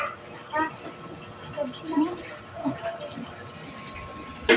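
Several dogs give short yips, whimpers and soft barks in bursts at a moderate distance, mixed with background voices and household noise.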